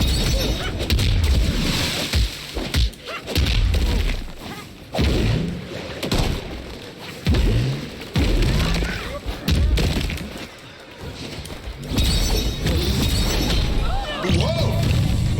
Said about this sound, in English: the refs are launching more crates into the ring